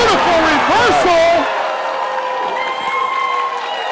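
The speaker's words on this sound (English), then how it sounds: "Listen to the crowd." Wrestling crowd at a lucha libre show, loud and sustained, with whistles and shouting over an excited commentator in the first stretch, then a steady roaring wash of crowd noise carrying on alone.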